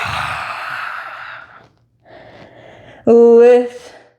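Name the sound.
lion's breath yoga exhale with tongue sticking out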